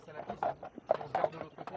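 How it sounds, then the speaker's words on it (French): Hooves of a horse pulling a carriage in the French Ardennes clop at a steady walking rhythm, close and under a voice talking over them. "on reprend le rythme du pas du cheval"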